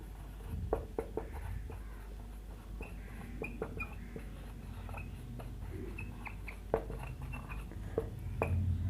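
Marker or chalk scratching across a board during a physics lecture, with short squeaky strokes and taps in uneven bursts, fairly close over a steady low room hum.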